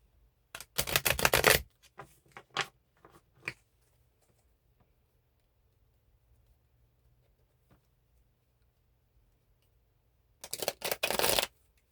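Tarot cards shuffled in a loud, close riffle burst, then a few scattered taps and flicks, a long quiet gap, and a second riffling shuffle at the end; no talking.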